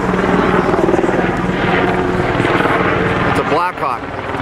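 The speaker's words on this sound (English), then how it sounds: "He's coming in low. He's in a U.S. helicopter" A U.S. Black Hawk helicopter flying low overhead, a loud steady rotor throb and engine roar filling the clip, with a person talking briefly near the end.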